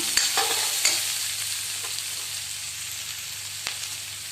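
Onions and green chillies frying in a pan with salt and spices, a steady crackling sizzle broken by a few sharp scrapes and taps of the stirring spoon.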